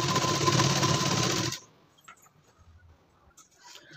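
A sewing machine stitches a blouse neckline, running in a steady loud whirring burst for about a second and a half before stopping abruptly, leaving faint handling clicks and rustles.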